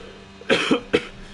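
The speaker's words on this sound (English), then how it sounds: "I had to cough a bit there" A single person coughs twice during F1 2022 race commentary at the Miami round, a harsh burst followed by a shorter second cough, close and fairly loud over quiet background.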